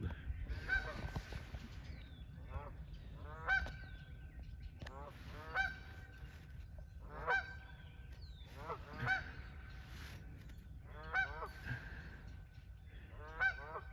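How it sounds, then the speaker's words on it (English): A flock of geese by a creek honks in rhythmic bursts every couple of seconds, loud, raucous calls repeating over steady background noise. "And of course, I had these geese going crazy."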